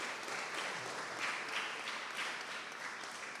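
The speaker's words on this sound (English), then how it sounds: "Let's give them a big round of applause." Applause for prize winners at a primary school graduation ceremony, a steady wash of clapping from an audience that continues evenly and fairly quietly throughout.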